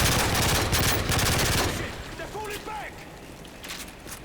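Gunfire in Modern Warfare 3 rattles in rapid bursts up close, loud at first and then thinning out as the shooting tapers away, with short game voice calls in the quieter stretch.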